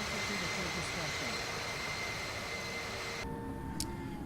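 A jet airliner's engines drone steadily just after takeoff in the flight simulator game Infinite Flight: a continuous broadband roar with faint whining tones. It cuts abruptly quieter near the end.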